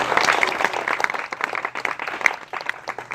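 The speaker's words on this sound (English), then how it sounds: "you can applaud that" Applause from a small house party audience at a political campaign event in Oceanside, California, close, lively clapping from a modest crowd with distinct individual claps, fairly loud and uneven.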